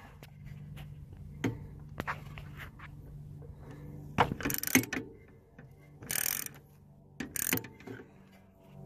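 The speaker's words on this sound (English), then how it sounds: "now to finish tightening down the bottom bolt" A hand ratchet clicks in short bursts while tightening down a bottom bolt, with a few louder clattering bursts of tool and metal handling between the quieter ratcheting. No talking.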